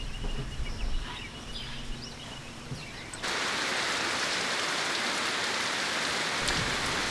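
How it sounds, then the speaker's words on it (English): Artificial rain hisses steadily inside a giant rainforest terrarium, a dense, even wash of falling water that starts abruptly partway through and continues without pause, with faint bird calls and room sounds before it begins. "It's raining outside and it's a little bit foggy inside Biocenosis."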